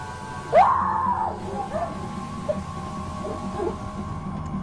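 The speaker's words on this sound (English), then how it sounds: "the woman lets out a guttural scream." A woman's guttural scream rises sharply and holds briefly, then trails off into fainter moans against a low background hum of a shop.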